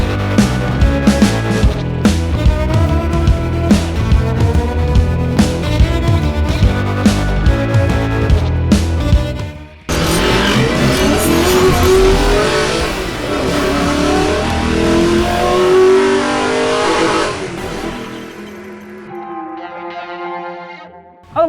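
A Mitsubishi All New Triton 2024 pickup is driven off-road on slippery ground. Its engine runs steadily under loud layered sound, surges after a brief cut, then fades out.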